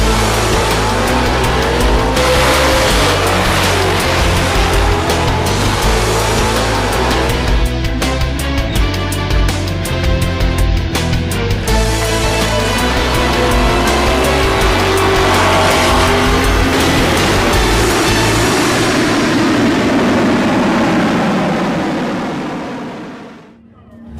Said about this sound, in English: This is the CarCraft Midnight Drags, which is a car race.